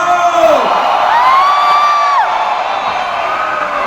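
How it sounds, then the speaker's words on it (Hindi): A live concert crowd in Dubai cheers, whoops and screams at a Bollywood star's stage show, a loud, sustained roar of many voices with rising shouts, steady throughout. "जब वो यानी the mega star Salman Khan आएंगे तो कैसे चिल्लाएंगे आप लोग"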